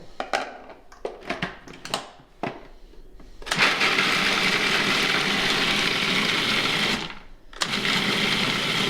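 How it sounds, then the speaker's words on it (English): A food processor grinding nuts, starting with a few short pulses before running in one loud, continuous whirring burst that cuts off briefly near the end and then resumes. "But using a food processor is the easiest thing to do."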